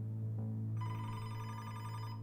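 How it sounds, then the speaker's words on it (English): A telephone rings at a police station desk, a steady electronic trill entering loud and sustained over a low hum, with no voices present. "his phone rang"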